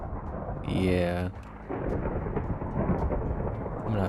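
A heavy Minecraft rainstorm brings a loud rolling thunder crack from lightning, followed by a continuous dense rumble of rain. The storm noise fills the whole stretch without fading.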